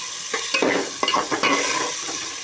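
Ginger paste is stirred in a frying pan for a vegetarian khichdi, with an even background sizzle and a few quick, close scraping strokes of a spatula in an irregular rhythm, with no talking.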